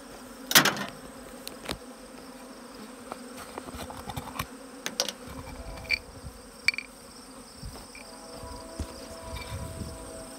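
Honeybees buzz around an open hive during a mite treatment, a steady insect hum with scattered louder passes and occasional faint clicks and knocks, no talking.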